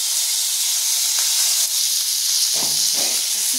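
Chopped tomatoes hitting hot oil while cooking a simple vegetarian potato curry give off a loud, constant hiss and sizzle close by. Faint clinks and tones come near the end, with no voices.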